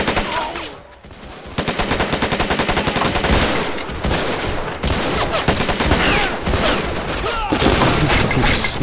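Rapid submachine gun bursts in the Men of War: Assault Squad battle game. The fire is loud and almost constant, rattling across the whole stretch, with other gunfire and occasional booms layered over it.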